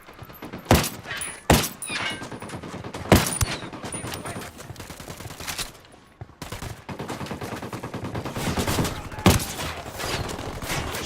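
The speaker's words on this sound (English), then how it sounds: "Opening fire." Gunfire in Ghost Recon Wildlands: loud bursts of automatic fire mixed with single heavy shots, sharp cracks spaced irregularly through a continuous firefight, with a brief lull midway before shooting resumes.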